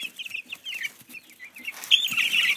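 Young chickens, 12-day-old Cornish Cross and 22-day-old Barred Rocks, peep and chirp in quick, high-pitched bursts nearby, growing louder and busier toward the end.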